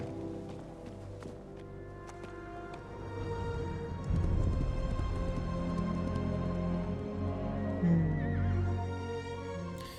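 A horse neighs and whinnies amid a dramatic orchestral score in a Rings of Power fantasy scene, the call rising out of the layered music and effects near the middle and again toward the end, with no talk over it.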